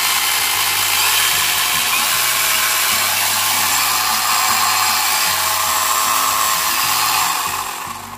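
ETOP 11.5-inch battery chainsaw running with no cut, a steady close electric whine of motor and chain that holds evenly for several seconds before winding down at the end.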